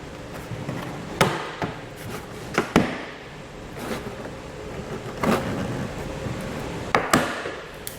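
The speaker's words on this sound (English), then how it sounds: "we're just gonna grab our trim piece and we're just gonna pull outward. And we're just gonna then gently release all the clips" Plastic trim clips pop loose one by one as a car's interior trim panel is pulled off, giving several sharp isolated snaps at irregular intervals over quiet handling noise.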